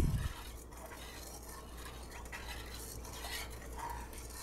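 Cornstarch being stirred to dissolve it, a soft, steady scraping and swishing of a utensil in a bowl with faint clinks, quiet and continuous, with no talking.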